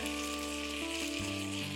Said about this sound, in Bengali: দিয়ে হালকা একটু ভেজে নেব।